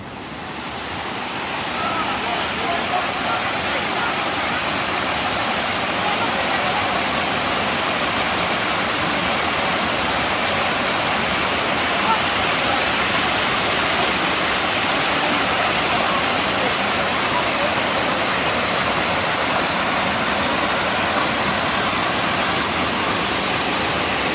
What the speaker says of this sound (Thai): ความชุ่มฉ่ำนะครับของน้ำตก